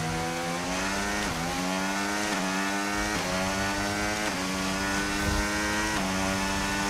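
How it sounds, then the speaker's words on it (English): A worn Formula 1 car engine in the F1 25 racing game screams at high revs, rising through each gear and dropping at every shift in a repeating pattern, loud and close with a rough, clattering edge. "That there's actual clatters coming from the engine because it's that worn."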